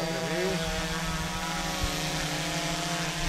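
A model drone hovers and flies overhead at about seven metres altitude, its propellers giving a steady, continuous whine with a sliding pitch sweep near the start, fairly loud and unbroken throughout with no voices.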